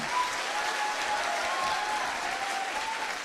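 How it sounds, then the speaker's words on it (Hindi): Dense, sustained applause from an audience at a literature festival in Banaras, a steady wash of many hands clapping at an even level with no break throughout. "एक भी बार आपने अच्छी तरह से ताली नहीं मारी अभी तक"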